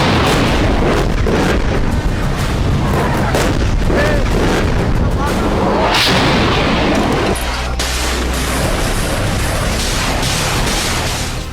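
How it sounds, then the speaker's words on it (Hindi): Heavy artillery fire and explosions in the Armenia–Azerbaijan war, with loud booms and rapid bursts of gunfire crowding one another almost without pause, close and overwhelming throughout. "ऐसे धमाके हो रहे हैं जो कल्पनाओं में भी कंपाने वाले हैं।"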